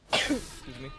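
A single short sneeze burst close by, followed at once by a quiet spoken voice.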